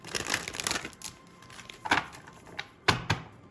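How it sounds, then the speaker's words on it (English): Tarot cards are shuffled in a few quick, crisp riffling bursts, close by and fairly quiet, with short pauses between them. "And shuffle one more time."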